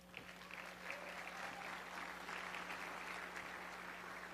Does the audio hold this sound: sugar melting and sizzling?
no